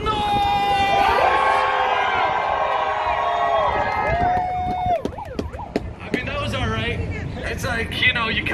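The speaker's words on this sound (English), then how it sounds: "if you love your freedom, make some noise!" Crowd at an outdoor freedom protest in Grand Falls, New Brunswick cheering, shouting and whooping loudly, with air horns blaring over the roar and a speaker's voice breaking in midway.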